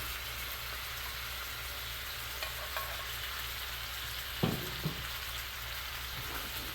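Chicken bubbles in a syrupy sauce in a pan on lowered heat, a soft, steady sizzle with faint popping and a couple of brief utensil taps midway, no voices.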